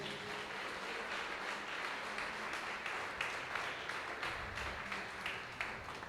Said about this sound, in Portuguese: As palmas, louva ao Senhor.